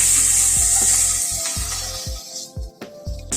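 Yard-long beans hit hot oil tempered with five-spice and dried red chili, bursting into loud, close sizzling that crackles and fades in spurts as they are stirred.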